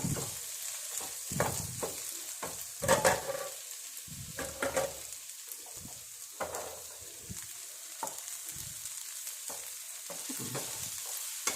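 Mustard seeds and chili frying in a pan, a continuous soft sizzle broken by repeated stirring scrapes and light spatters, steady and close with no voices.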